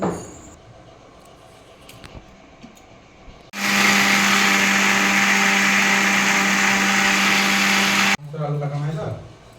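An electric grinder whirs loud and steady for a few seconds while grinding sun-dried mustard seed into paste, then stops abruptly. Quiet talk and kitchen sounds come before it, and a voice follows after it stops.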